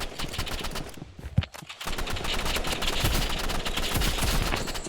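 Rapid gunfire in the Roblox game Rivals, dense bursts of shots running nearly the whole time with a short lull in the middle, loud and close.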